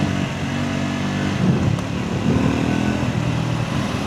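Steady engine drone of a Triumph Scrambler 400X motorcycle on a test ride, loud and close with slight rises in pitch as it pulls, mixed with wind noise and no talk.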